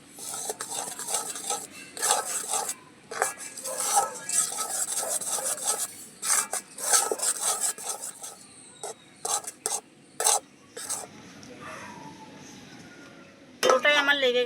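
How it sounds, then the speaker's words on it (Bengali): Grated coconut being mixed by hand with sifted flour and semolina for oil-free palm fritters, giving repeated scraping, rubbing bursts and light clinks in uneven rhythm, close and moderately loud, with pauses and a final clatter near the end. "এইখানে যে আটা আর আমি সুজিটা জাল করে রেখেছি এটা অল্প অল্প করে দেব আর মিশাবো"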